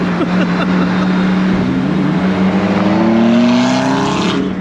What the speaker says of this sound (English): Look at that McLaren.